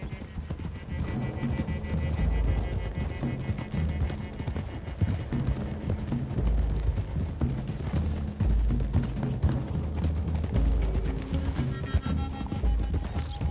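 Horses gallop along a road in the video game Red Dead Redemption 2, their hooves clip-clopping in a steady drumming rhythm close by, with occasional whinnies over music and game ambience.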